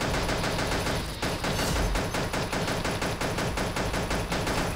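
Rapid automatic gunfire from the video game Pixel Gun rattles on without a break, loud and dense, with a brief sharper blast partway through.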